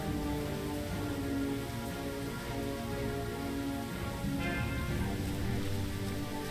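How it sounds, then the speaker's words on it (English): Continuous rain patters on surfaces in an even, dense hiss with a faint low rumble beneath, steady throughout and without voices. "If it doesn't stop raining,"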